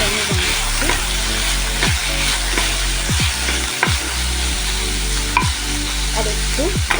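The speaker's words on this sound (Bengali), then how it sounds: "আর একটু ভাজা ভাজা করে নেব।" Cabbage and peas stir-fried for chicken chowmein, a steady loud sizzle with repeated scraping strokes of a spatula against the pan, close up and continuous, no talking.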